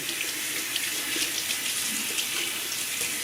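Water runs from a tap in a steady, close splashing stream as a shaving brush is rinsed under it after a shave, with no voices.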